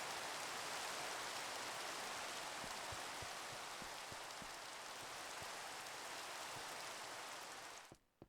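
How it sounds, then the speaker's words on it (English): Rain in the Minecraft video game, a dense, steady hiss of falling rain with scattered drip ticks, loud and unbroken until it cuts off abruptly near the end. "bit-crushing rain."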